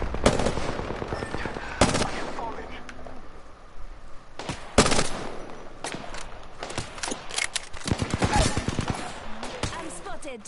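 Bursts of automatic gunfire in the battle royale shooter Apex Legends, with sharp repeated volleys spread across the clip, some close and loud, others more distant, amid game ambience.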